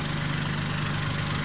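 A Kubota tractor engine idles steadily after reversing up to a finishing mower, holding a constant loud, close drone with no change in pitch or rhythm and no talking.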